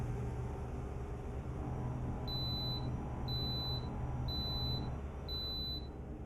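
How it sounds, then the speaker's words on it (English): A weigh station warning in American Truck Simulator, driving a Volvo 7550 bus: a clear high electronic beep repeating in an even on-off rhythm, four tones about a second apart over a steady low engine and road hum. "The beeping you sound is the way station warning"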